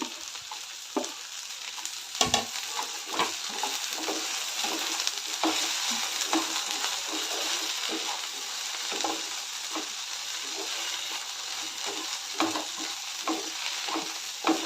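Okra with garlic fries in a pan, a constant sizzling hiss broken by frequent scraping stirs of a spatula, close and steady throughout.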